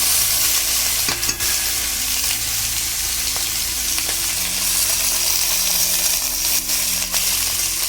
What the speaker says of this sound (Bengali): এইটা ভালো করে ভেজে নেব।